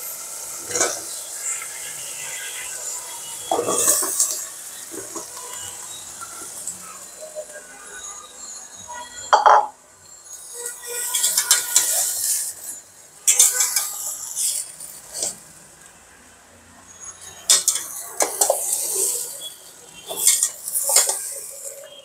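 Freshly washed, cut tender bottle gourd goes into a pan in a home kitchen, with scattered clinks of cutlery and pots, bursts of rustling and stirring, and a faint sizzle in between, all fairly close.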